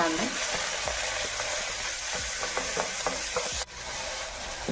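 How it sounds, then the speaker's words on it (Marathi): Chopped onion and green chili sizzle and fry steadily in a hot pan, with a few soft stirring scrapes and clinks over a constant hiss and no talking. "कांदा आपल्याला थोडासा परतून घ्यायचा आहे"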